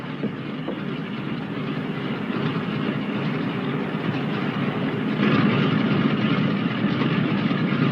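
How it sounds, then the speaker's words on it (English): A steady low rumble and rattling of a departing train, growing slightly louder partway through, with no voices. "Oh, there she goes."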